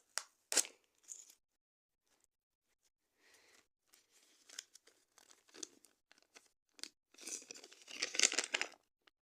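A paper packet is torn open and handled up close, giving short crisp rips and crinkles in scattered bursts with quiet gaps, ending in a longer, louder tearing and rustling run.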